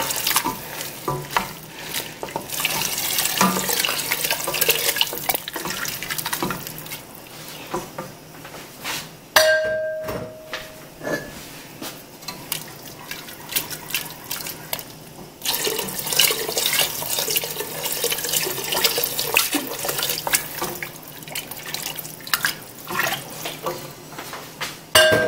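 Turkey stock poured into a pot for chicken and sausage gumbo on medium-high heat: a continuous close splashing, gurgling pour with brief pauses and clinks, no talk.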